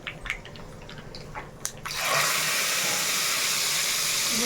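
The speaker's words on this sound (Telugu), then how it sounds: "ఇక తాలింపు వేసేసుకుందాం" Tempering spices, including fenugreek, crackle in hot oil for rasam; after a quiet start the sizzle erupts abruptly and holds as a loud, steady hiss with no talking.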